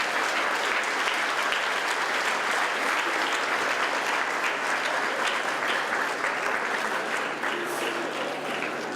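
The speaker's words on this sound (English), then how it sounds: "I want everybody to give her a huge round of applause." An audience claps loudly at an evening event, giving a dense, sustained round of applause that fills the whole stretch without letting up.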